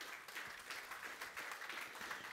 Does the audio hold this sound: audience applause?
yes